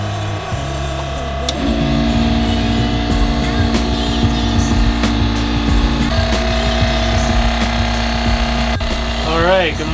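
A boat's water maker gives a steady mechanical buzz and hum that runs through the whole stretch, with a person talking over it.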